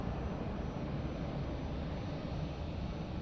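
A departing airliner's takeoff roar on the runway at Lisbon Airport at night: a steady, dense, broadband rumble that holds at constant loudness throughout, with no voices.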